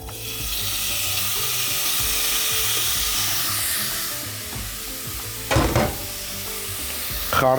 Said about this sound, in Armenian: Խառնելով մսակտորների տապակում ենք այնքան, մինչև կեղև կապի։